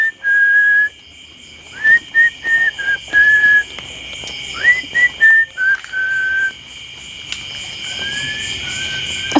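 A person whistles a series of short and longer high notes in a broken rhythm, with crickets chirping steadily in the background.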